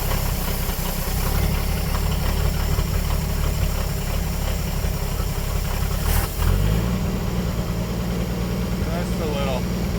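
A 1957 Chevrolet 150 engine idling after sitting 40 years, a steady close rumbling idle with a slight knock and a brief rev midway, while someone talks over it.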